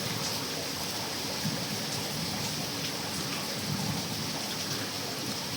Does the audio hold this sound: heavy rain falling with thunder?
yes